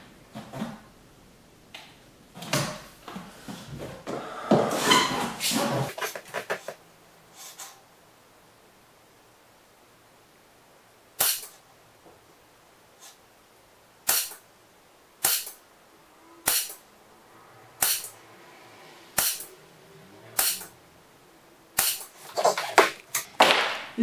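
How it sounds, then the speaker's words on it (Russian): An air rifle firing slugs at a target, with rustling and handling noise at first and then a series of about a dozen sharp, evenly spaced cracks, close and loud, with quiet gaps between them and no talking. "стреляю в левую мишень"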